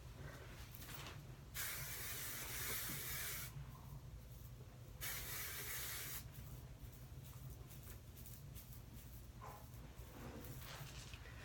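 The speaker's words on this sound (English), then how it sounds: "just put some more hairspray on it" Hairspray is sprayed onto hair in two separate bursts, each a hissing aerosol blast about a second long, close and clear against a quiet room, followed by fainter rustling.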